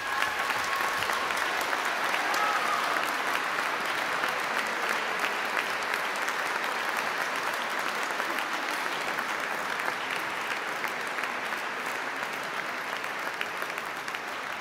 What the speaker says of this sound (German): Aber im Mike mal einen grossen Applaus.